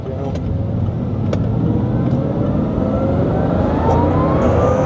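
A Bugatti Chiron Super Sport accelerates hard, a loud broadband engine and road roar that builds steadily and holds for several seconds, with no clear talk over it.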